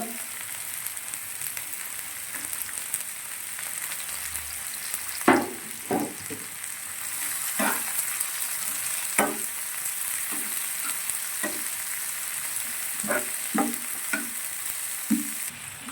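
Whole spices and cashews frying in a pan: a continuous close sizzle broken by repeated scraping strokes of a spatula stirring at irregular intervals, with no talk.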